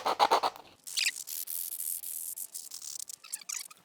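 Sanding on a sugar skull decoration, close and scratchy, in irregular rubbing bursts with short pauses between them and no talking.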